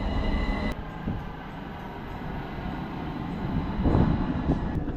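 Rumbling ride inside an Istanbul tram heading to Taksim, wheels rolling and rattling over rails with a brief high squeal early on and clunks as the car sways.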